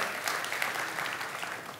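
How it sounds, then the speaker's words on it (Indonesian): Brief burst of congregation applause during a church service in Surabaya, dense clapping heard from some distance at moderate level, without voices. "Berikan tepuk tangan sekali lagi buat Tuhan."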